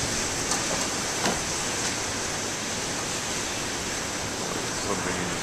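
Big waves break on Narragansett Bay during heavy hurricane surf, a continuous loud roar of crashing and washing water with no clear gaps.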